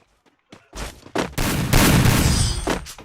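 Rapid bursts of gunfire in the battle royale game Free Fire MAX, a few sparse shots building into a loud, dense fusillade that runs to the end, with no talk over it.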